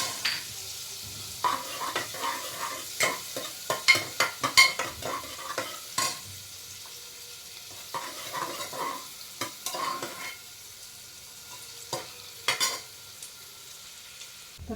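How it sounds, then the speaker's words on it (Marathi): Chopped onion frying for pav bhaji crackles softly as a spoon stirs and scrapes the pan in repeated clusters of clinks, quiet and close, with no talking. "हा कांदा आपण बघू शकता हा भाजत आलेला आहे"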